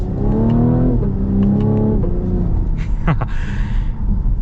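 A 2024 Cadillac CT5 accelerating hard, its engine note climbing in pitch and dropping sharply at each quick gear shift, loud and close, with a brief whoosh near the end.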